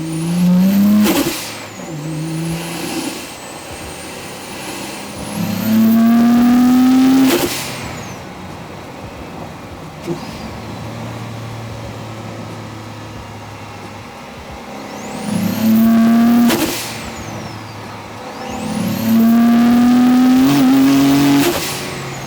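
A turbocharged V6 Honda Accord, front wheel drive with about 400 wheel horsepower, revving hard through rising gears on a road, two loud full-throttle pulls with turbo whistle and shift breaks, idling rumble between runs.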